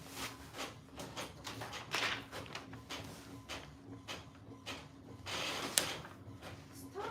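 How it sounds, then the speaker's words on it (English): A home printer runs on its own, producing repeated mechanical whirring sweeps, clicks and paper-feed clacks in an uneven rhythm, fairly close and moderately quiet, with no talk over it. "Why is my printer making some noise?"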